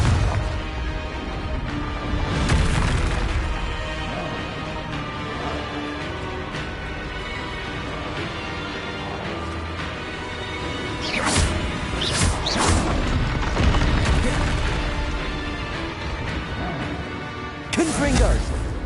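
Fire spells explode in the PS5 action game Hogwarts Legacy, sounding as sharp bursts and whooshing blasts at several points over ongoing combat effects and game noise.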